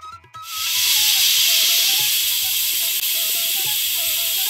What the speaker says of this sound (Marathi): कुकरचं झाकण बंद करून याला 1 शिट्टी काढून घेऊ